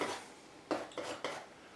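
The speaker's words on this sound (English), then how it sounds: "I'm just going to cut across to get a roll on my knife" A palette knife scraping and cutting across dark brown and black oil paint on a palette, three short scraping strokes close up and fairly quiet.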